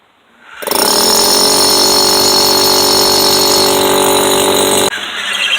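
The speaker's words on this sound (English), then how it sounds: "So let's go ahead and drill a hole now." A hammer drill with a masonry bit roars loudly into masonry block, starting after a brief pause and grinding continuously, with a short dip near the end.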